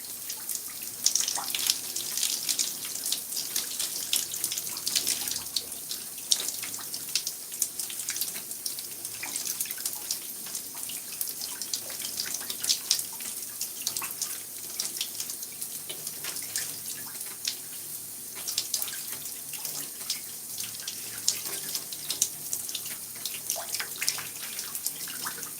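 A tap runs steadily while hair conditioner is rinsed out, producing a continuous hissing splash with scattered drips and spatters for the whole stretch, close by and without talk.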